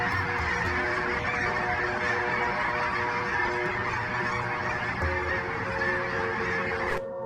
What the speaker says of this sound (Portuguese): cerca de 500 mil de gansos brancos descem no lago